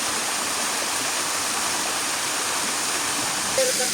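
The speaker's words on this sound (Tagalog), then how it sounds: "Dinadaanan talaga siya ng tubig, no?" Water rushes steadily through a rocky passage on a treasure-hunting trek in Cagayan, a loud, dense, continuous hiss and splash close by with no pauses.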